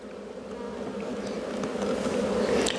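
Honeybees swarm-buzz steadily around an opened beehive during a spring inspection, a dense close hum that grows slightly louder, with no voices.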